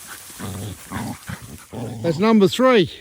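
A person speaks briefly, then a pig-hunting dog barks twice in quick succession, loud and close, with some panting or huffing before the barks.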